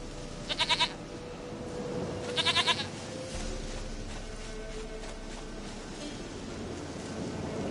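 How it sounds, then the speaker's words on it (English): Goat bleating in the video game The Witcher 3, two short wavering bleats in close succession near the start, then a second burst, over a steady ambient game background with no speech. "Goat of mine, dearest, sweetest goat."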